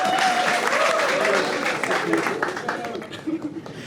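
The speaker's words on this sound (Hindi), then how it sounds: "एक बार जोरदार तालियां परनीत सिंह के लिए, come on." Audience applause greets a performer at a live comedy talent show, dense sustained clapping with some crowd cheers and voices mixed in, fading slightly toward the end.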